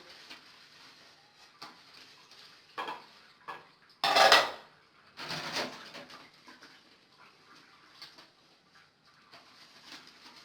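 Dishes clatter and clink against one another on a kitchen countertop, with a loud burst of scraping or rinsing midway, then lighter scattered clinks at a moderate distance.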